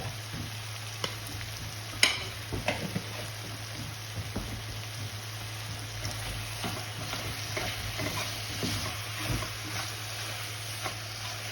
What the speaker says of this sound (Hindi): ये देखिए साथ साथ हमारा भुन भी रहा है, अच्छे तरीके से भुन जाएगा ये